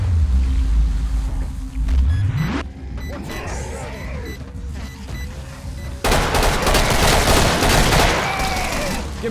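Explosions and rapid gunfire in the video game Killing Floor, with a deep booming blast, dense crackling volleys and a fresh loud burst of fire partway through, all close and continuous.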